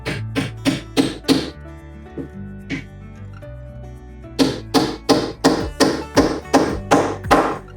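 A nail is hammered into a pre-drilled hole in wood for a build-it-yourself toy farm tractor and trailer: sharp, close hammer blows in quick runs, a few sparse taps in the middle, then a steady flurry of strikes.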